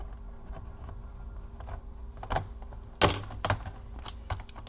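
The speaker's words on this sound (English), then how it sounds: "Just use something sharp to open the clips." A sharp tool pries at the keyboard clips of an HP DV6 laptop, giving scattered quiet plastic clicks and ticks, with one louder snap partway through.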